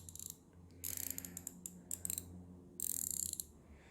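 A KTC 3/8-drive 72-tooth roto head ratchet clicking up close, with several quick bursts of fine, rapid ratcheting clicks separated by short pauses, quiet and with no talking.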